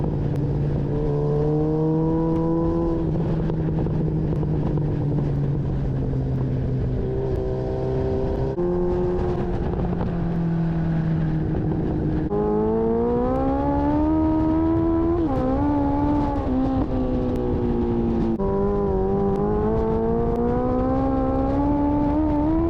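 Loud, steady engine drone of a fast motorcycle, likely a Hayabusa, on a road, with rising and falling pitch as speed shifts and another vehicle overtakes at high speed.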